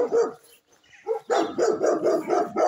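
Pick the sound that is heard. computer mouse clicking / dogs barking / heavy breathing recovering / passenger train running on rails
dogs barking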